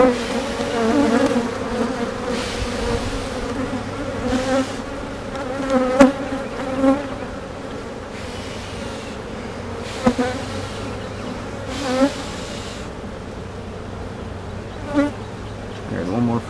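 Honeybees hum continuously in a dense, droning buzz close by inside a honey super hive box, with occasional knocks and shifting tones as the swarm moves.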